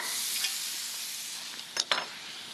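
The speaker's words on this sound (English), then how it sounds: "This butter will brown almost instantly, so work quickly. Get a few pats of butter in the pan." Pats of butter, about three tablespoons, hitting a hot pan and sizzling, a steady bright hiss close by, with a couple of short scraping stir sounds near the end.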